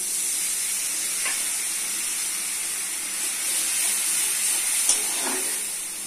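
Water poured over turmeric, salt, chilli, coriander and cumin powder frying in a pan gives a steady, loud sizzle and hiss that runs throughout, with a few faint clinks and no talk.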